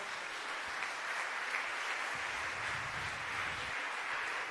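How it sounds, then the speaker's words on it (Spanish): Applause from an audience in a legislative chamber, a steady, moderately distant wash of clapping that continues evenly, with some low rumble from the room toward the middle. "Y los que aplauden son esos ahora."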